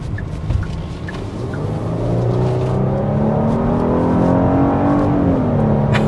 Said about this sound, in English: we'll go ahead and start with the hard acceleration and see how that powertrain puts the power to the ground